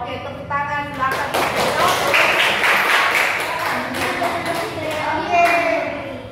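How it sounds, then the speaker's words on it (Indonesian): Students clap their hands in a vocational school classroom in Aceh Besar after a group presentation. The clapping is brisk and uneven, mixed with lively voices chattering over it. "tepuk tangan silakan"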